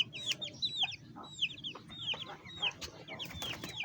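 A hen clucks repeatedly in a quiet mini zoo setting, with soft rhythmic clucks and sharper high calls from fowl close by, fairly faint overall.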